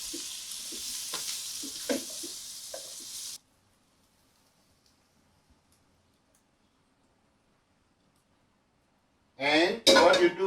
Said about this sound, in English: Do a slow stir. Very slow. Slowly you stir it.